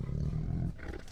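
A tiger sound effect in a narrated folk tale gives a deep, rumbling roar that swells and then trails off into a rougher growl.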